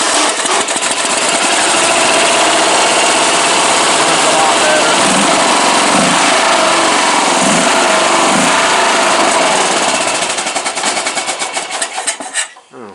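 A Briggs & Stratton 14.5 engine cranks and then fires up, running loud with a rough, rapid chatter before it sputters and dies away near the end, fuel-starved.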